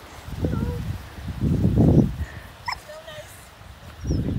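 A dog on a beach walk gives short whimpers and yips among soft barks, in bursts close by, with people talking nearby and outdoor rustling between the calls.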